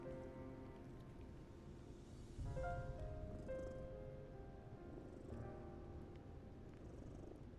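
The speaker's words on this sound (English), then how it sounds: "Oh, you can even hear him purr" A cat in the video game Lies of P purrs in a soft, continuous low rumble. It stays quiet and close, with faint tonal game sounds drifting in and out over it.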